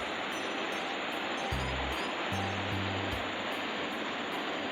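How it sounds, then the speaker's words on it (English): Kabwelume Falls on the Kalungwisi River in Zambia's Northern Province roars as a dense, steady wash of falling water, loud and unbroken throughout, with faint low tones briefly underneath. "Kabwelume Falls was definitely one of the most spectacular waterfalls on the Kalungwisi River"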